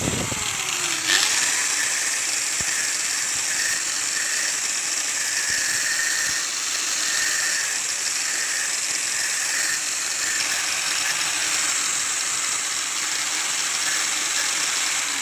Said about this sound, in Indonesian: saya pakai gerinda potong dengan pemotong besi ya guys